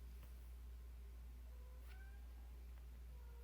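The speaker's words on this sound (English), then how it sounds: "Cat's getting on my nerve." A cat meows a few times indoors, faint and somewhat distant, with short rising cries over a steady low hum and no talking.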